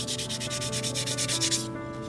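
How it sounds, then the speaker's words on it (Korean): Wet sandpaper smooths a handmade ceramic tableware piece in rapid back-and-forth strokes, a close rhythmic rasping of about a dozen even passes before stopping. "좀 거친 부분이 있으면 마찬가지로 사포질을 해주시면 돼요."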